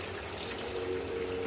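Water poured into a Tamil-style chicken curry, a short, soft trickling pour that swells slightly toward the end.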